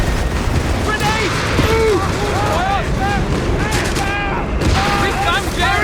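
Company of Heroes 3 battle with a grenade explosion and steady gunfire booming throughout, loud and dense, under game voices shouting orders.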